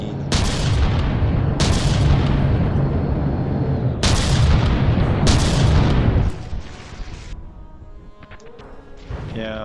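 Naval guns in the video game Dread Not boom out in heavy, close blasts, four big volleys spaced over several seconds, each followed by a rumbling tail before things quiet down.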